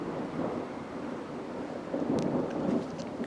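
Low rumbling thunder rolls through a severe thunderstorm with damaging winds in southeastern Pennsylvania, a steady dull roar that swells louder in the second half, with some rain and wind noise mixed in.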